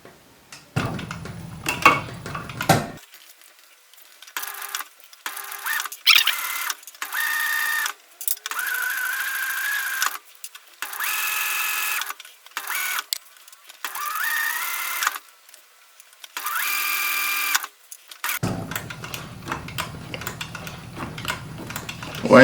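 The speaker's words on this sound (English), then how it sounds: "then you start stitching" Sewing machine stitching a tubular leather handle, running in repeated bursts of steady mechanical whirring separated by short pauses, with quieter handling sounds at the start and end.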